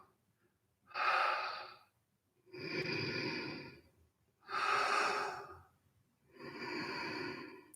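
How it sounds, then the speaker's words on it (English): Slow, deliberate breathing during yoga practice, four long airy breaths alternating inhale and exhale, close and fairly loud, each lasting over a second with quiet pauses between. "This is an inhale. This is an exhale."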